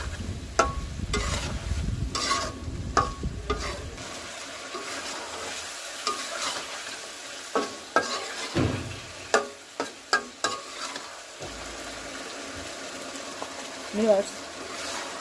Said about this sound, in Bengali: মাছগুলো দিয়ে কষাবো, মিনিট 2 কষিয়ে নেব।